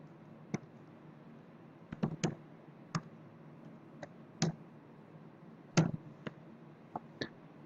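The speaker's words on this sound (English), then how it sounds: "so I can type that in, and my password" Sparse, crisp key clicks from a computer keyboard as a password is typed, isolated taps and short bursts spread irregularly over a faint steady background hum.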